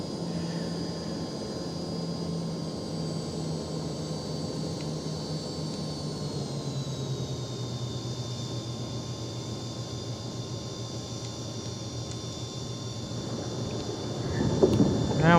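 A Citation Jet 525 comes in to land at Friedrichshafen in the X-Plane flight simulator, its steady jet whine and airflow hiss filling the cabin. The engine tone drops midway as power comes back, and a louder rumble swells near the end.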